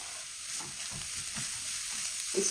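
Carrots, cabbage, capsicum and green chili sizzle in a hot pan as a utensil stirs them, the steady frying hiss broken by soft scraping strokes, near and unaccompanied by talk.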